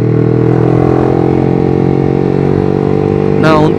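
A Yamaha R15 V3 motorcycle engine, bored up to 180cc and fitted with a racing exhaust, runs with a steady, loud droning hum throughout, while a voice briefly rises near the end.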